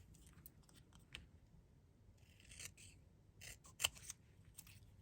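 Scissors snip through thin plastic in a few quiet, brief cuts, with faint rustling and handling sounds between them, at close range during a paper-craft project imitating heat-embossed lettering.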